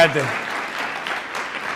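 A university lecture-hall audience bursts into steady applause, a dense wash of clapping that follows a brief voice at the start.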